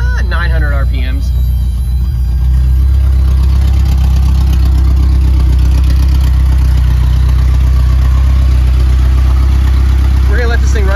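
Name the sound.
engine running after rebuild, idling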